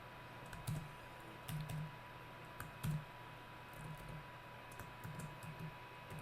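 Quiet computer keyboard typing, a Python command being entered: scattered short bursts of key clicks with irregular pauses over a low background hum.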